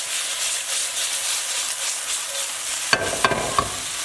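Steak and Brussels sprouts stir-fry being stirred in a hot pan: a steady sizzle with soft scraping, then a few sharp clanks of the utensil against the pan near the end.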